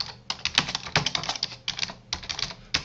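Typing on a computer keyboard, a close, crisp run of rapid key clicks in short bursts with brief pauses between words.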